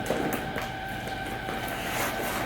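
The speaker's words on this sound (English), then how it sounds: "My son is pressure washing a carpet outside." Outdoors, a pressure washer cleans a rug with a loud, steady rushing spray and motor drone, continuous and fairly close, with no speech.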